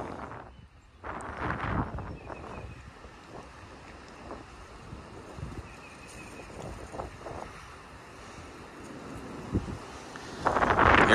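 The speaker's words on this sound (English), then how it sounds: "You got the wind all around you, blowing all whichever direction." Strong wind blows steadily across an open outdoor microphone on a stormy day, a continuous rough rumble with buffeting gusts, swelling into a louder gust near the end; no talking.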